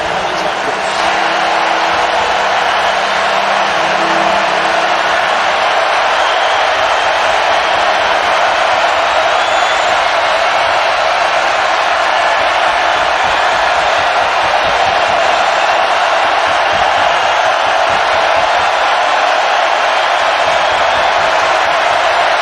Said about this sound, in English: Now the crowd's getting cranked up.